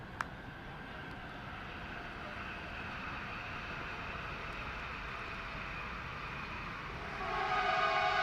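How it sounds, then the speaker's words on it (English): Old recorded train-arrival effect played during a T10 cricket broadcast: a steady rumble with a sustained horn tone, swelling louder near the end as the train draws in. "The old sound effects from the old train coming in."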